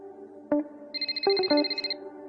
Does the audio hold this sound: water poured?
no